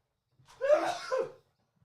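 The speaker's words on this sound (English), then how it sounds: "Crikey, I just had to sneeze." One sneeze from a man, a short sharp burst close to the mic, alone in a quiet moment.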